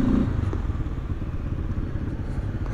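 Lander 250 motorcycle being ridden, its engine a steady close rumble with clattering and thumps from the road throughout, no talk over it.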